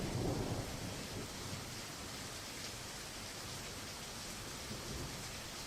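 Steady rain and thunderstorm ambience played as a game sound effect, a continuous broadband hiss of rainfall with a low rumble of thunder swelling at the start, even and unbroken throughout.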